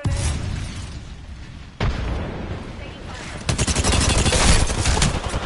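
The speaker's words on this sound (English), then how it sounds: "Thermite grenade." Thermite grenade and gunfire in Apex Legends: a constant loud roar of fire with a sharp burst partway through, then dense rapid shots clustered near the end.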